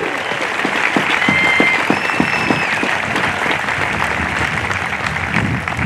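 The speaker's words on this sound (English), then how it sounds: "round of applause for the class 2303" A crowd gives a steady round of applause for a graduating Nuclear Power School class at a naval graduation ceremony, dense clapping lasting throughout with faint crowd noise.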